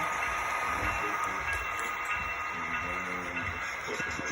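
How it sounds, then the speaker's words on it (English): A long model intermodal train rolls along a model railroad layout, giving a steady hiss and rumble with faint rhythmic clicking throughout, heard close and continuous. "So you got a long intermodal train."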